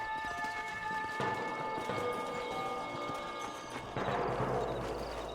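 Rhythmic clip-clop of horse hooves in Red Dead Redemption on PS4, over ambient game sound, steady and moderately close, with no talking.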